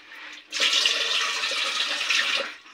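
Cold water from an old hillside cave on Waranghushi hill pours into a container, a steady rushing splash that starts abruptly after a brief quiet moment and runs for about two seconds before tapering off.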